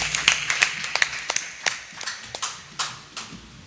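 A church congregation at a French-language Sunday service claps in scattered, uneven hand claps that start sharp and close, then thin out and soften, with no voices over them.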